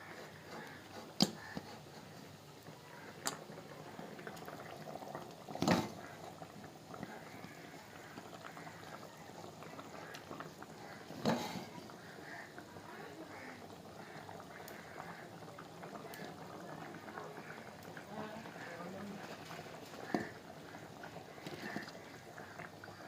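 Fish curry with shol and tengra fish simmering in a pot, a soft, low bubbling throughout with a few sharper clinks and pours, faint and close.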